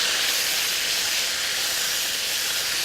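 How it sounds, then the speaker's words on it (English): Tomatoes stir-fry in a hot pan with a steady, loud hiss and sizzle that holds evenly throughout, with no talking. "You just go ahead and stir fry the tomatoes until they kind of halfway done"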